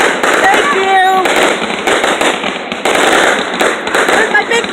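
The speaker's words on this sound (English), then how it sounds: "Somebody launch fireworks." Video game fireworks burst and crackle in quick rapid pops, with a whistling launch sound, under a loud voice talking over them.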